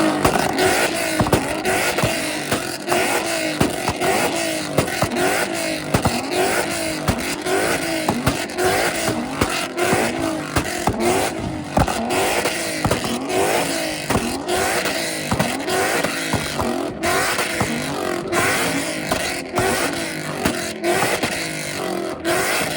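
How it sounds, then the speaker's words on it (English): Several street cars rev their engines hard in a rev battle, loud exhaust popping and roaring in continuous overlapping bursts, close and dense throughout with no talk. "that's enough cars revving and loud exhaust."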